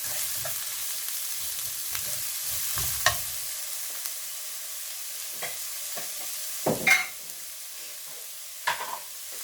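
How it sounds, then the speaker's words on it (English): Onions and peppers stir-fried in a pan, a brief hiss of sizzling with a few scraping stir strokes and spatula knocks, close up and fairly quiet, no voices. "Give it a quick stir."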